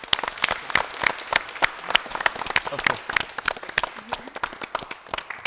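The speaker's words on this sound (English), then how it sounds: "let's give him one more round of applause." Audience at a student English competition final applauding, a dense, lively burst of clapping from a nearby crowd, with a brief spoken remark over it.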